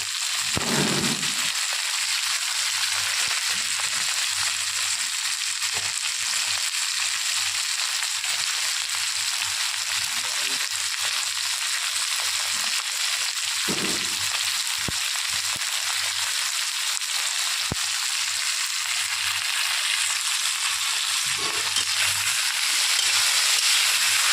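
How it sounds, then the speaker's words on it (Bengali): A pan of food seasoned with salt and a little turmeric fries in oil with a steady, dense sizzle that runs unbroken for the whole stretch, close and fairly loud, with no voices. "লাল লাল করে ভাজা ভাজা করে নেব।"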